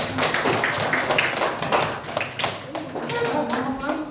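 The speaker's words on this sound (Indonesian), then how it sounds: "beri aplaus untuk kelompok 3 nak" A classroom audience claps for a student group, a dense burst of many hands applauding that keeps going steadily, with some children's chatter mixed in.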